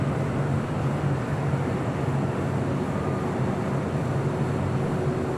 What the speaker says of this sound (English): That was Alaska Airlines Flight 1305 heading to Seattle in a 737 MAX 9.